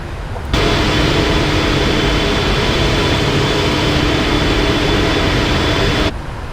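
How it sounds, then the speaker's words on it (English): Emirates Boeing 777 engines idling in Microsoft Flight Simulator 2024, heard from outside the aircraft: a steady, loud broadband roar with a constant high whine that fades in at the start and cuts off near the end, with no talking. "Well, this airplane sounds so good sitting outside the airplane."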